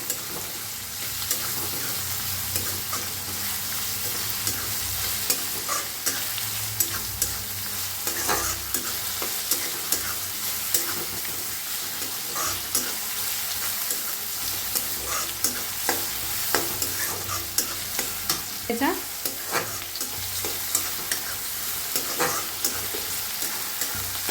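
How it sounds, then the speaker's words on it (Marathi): Coriander and curry leaves fry in hot oil for a pumpkin vegetable dish, making a continuous close sizzle broken by frequent crackling pops and the sound of stirring. "थोडीशी कोथिंबीर, कढीपत्ता आता भाजून घेऊया।"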